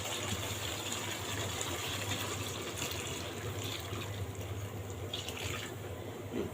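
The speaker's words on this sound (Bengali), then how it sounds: "এখন আমি গরম পানিটা দিয়ে দিব" Hot water is poured into a pot of cooked-down country chicken curry to make a thin gravy, giving a steady, moderately quiet, continuous watery rush that runs throughout without any talk.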